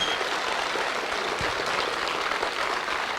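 Audience at a direct selling training workshop claps in a steady, dense wash of applause from many hands, even and continuous throughout.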